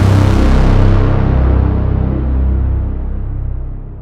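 A dense, loud synthesizer drone for film scoring swells with a low, rumbling bass and a bright, airy upper layer that slowly darkens and fades over a few seconds, with no voices.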